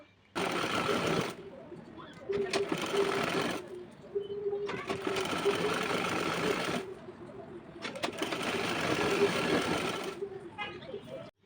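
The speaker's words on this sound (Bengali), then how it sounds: "এবার আমি দুই সাইডে যে মার্ক করেছিলাম সেলাইয়ের জন্য সেই মার্ক বরাবর আমি এখন সেলাই করে দিব" A sewing machine stitching an abaya runs in three loud, close bursts of rapid needle clatter separated by short pauses, with the motor humming underneath and a faint click at the end.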